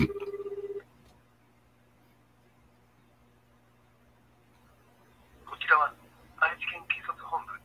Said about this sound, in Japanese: もっぺん電話するわ。